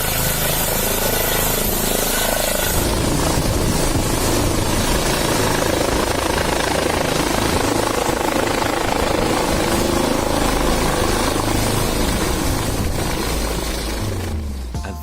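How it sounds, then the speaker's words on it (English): A rescue helicopter flies close overhead near a very steep hillside, its loud rotor thump and engine roar sustained without a break throughout. "This helicopter rescuing a person on the side of a very steep hill."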